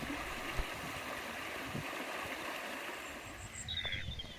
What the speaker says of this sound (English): The sound of water is very soothing